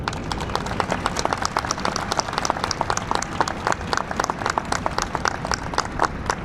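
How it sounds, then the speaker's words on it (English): A warm round of applause at Chicago's Memorial Day wreath laying ceremony, with many distinct, sharp claps from a moderate outdoor crowd held at an even level throughout. "give them a nice warm round of applause"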